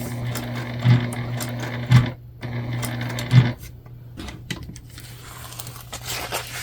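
Sewing machine stitching a fabric bucket bag, a steady humming motor broken by brief stops and short mechanical clunks, then rustling fabric as the machine falls quiet.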